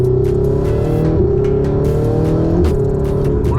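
A repaired Ferrari in race mode revs hard and close, its engine tone climbing in steady sweeps with brief shifts in pitch, loud and alone.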